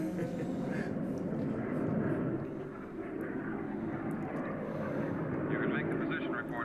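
Jet aircraft engine roaring in the 1950s sci-fi film Killers From Space, a steady droning rumble that swells and dips, with film dialogue and a viewer's voice talking over it.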